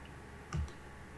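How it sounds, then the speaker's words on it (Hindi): A single soft computer mouse click, close and quiet, over faint room hum. "और इंस्टॉल नाउ पर क्लिक करते हैं।"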